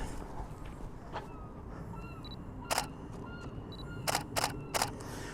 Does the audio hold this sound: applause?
no